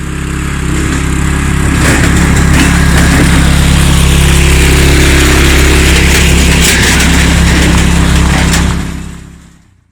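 Agzat tractor fitted with dual wheels drives along, its engine a loud, steady rumbling drone with mechanical rattling over a deep low hum that holds constant for about nine seconds before fading out.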